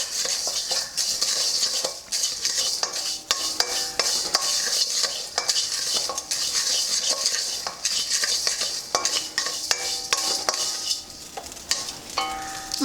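Dry roasting of Andhra-style Guntur chilli lentil powder ingredients with salt in a pan: continuous loud rattling and scraping of a spoon against metal, gritty grains shifting in quick, busy strokes with no pauses and no talk.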